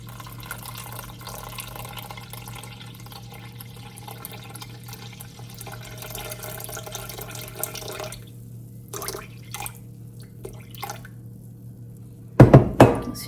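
Water poured from a tap into sourdough starter for bread, a steady running and splashing stream for several seconds, then stopping, followed by a few clinks of a container at the end.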